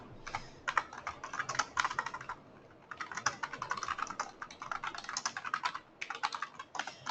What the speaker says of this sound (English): I'm typing to you right now.